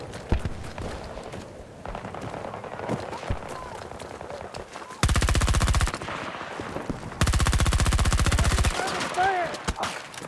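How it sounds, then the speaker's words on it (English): Machine-gun fire in a military shooter video game, with two long sustained bursts, loud and close, plus scattered single shots and footsteps, while a player talks over parts of it. "Taking fire here."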